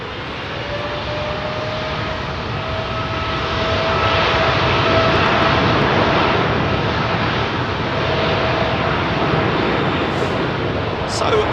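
Air India jet airliner departing Heathrow at sunset, a steady broad engine roar with a faint whine, loud and sustained throughout, with someone talking over it.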